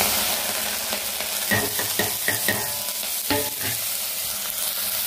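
Curry leaves, red onion, tomatoes, green chillies, peanuts and tempering seeds fry in hot oil with a steady loud sizzle, broken by several rhythmic scraping stirs of a spatula midway.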